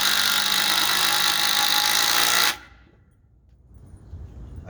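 A standard impact driver drives a fastener in one loud, rattling burst that lasts about two and a half seconds and then stops abruptly, leaving quiet room noise.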